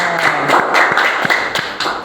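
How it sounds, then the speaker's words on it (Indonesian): Classroom audience claps after a group presentation, a short burst of quick, uneven hand claps lasting about two seconds. "Ya, tepuk tangan."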